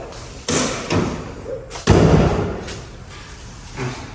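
Two heavy thuds of a front-end body panel being slammed into place on a Nova, the second louder and fuller, with faint shuffling and handling noise between them.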